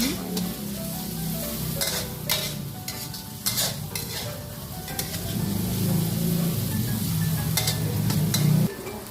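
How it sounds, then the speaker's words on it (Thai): Shallots fry gently in oil over low heat while being stirred, a continuous soft sizzle broken by repeated scraping and clinking of a utensil against the pan, close and steady. "เจียวนี้ไฟอ่อนๆนะคะ อย่าแรงนะคะ เดี๋ยวหอมจะไหม้นะคะ เจียวหอมนะคะ"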